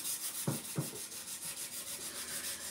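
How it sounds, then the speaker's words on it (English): Hand sanding a thrift-store piece for a holiday flip, a steady soft scratchy rubbing close by, with two brief louder scrapes near the start and no talking. "Let's resume our sanding."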